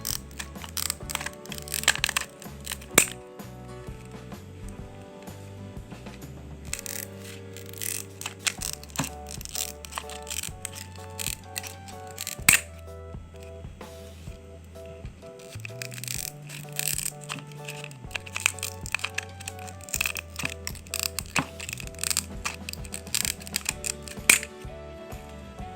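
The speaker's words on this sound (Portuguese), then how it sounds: "um quadradinho de 8 por 8 o CD. Eu tô cortando aqui quadrado." A CD is cut into an 8 by 8 square, giving close, irregular crunching, cracking and rattling snips with scattered sharp clicks throughout, without any talking.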